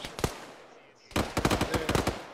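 Video-game gunfire with tracer rounds: a couple of isolated shots, a short lull, then a rapid rattling automatic burst, loud and close with no speech over it.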